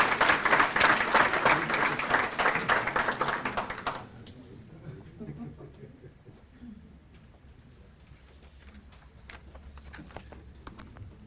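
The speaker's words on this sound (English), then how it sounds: "Another round of applause, please." Audience applause at a youth environmental conference, loud dense clapping for about four seconds that stops abruptly, followed by quieter room noise with a few scattered claps.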